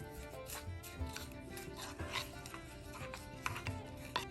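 Coffee grounds, coconut oil and brown sugar being stirred together into a hand scrub, giving soft, steady gritty scraping and rubbing with light taps of the utensil against the bowl, close and fairly quiet, with no talk.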